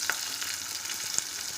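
Onions frying in a pan until reddish-brown, a steady soft sizzle with a couple of faint clicks, no talking.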